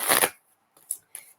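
Tarot cards shuffled close up, a quick riffling flutter followed by two short, softer card taps, heard on their own.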